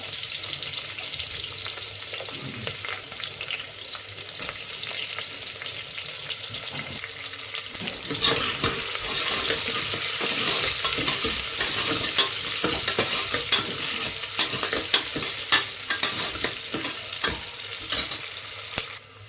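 Onions, mustard seeds and curry leaves frying in a pan, a continuous close sizzle that grows louder and busier halfway through, with scattered stirring clicks.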